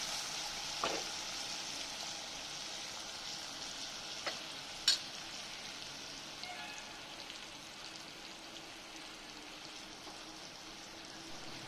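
Onions frying in oil with chicken on the stove for a chicken curry, a faint steady sizzle with a few soft stirring clinks, no talk.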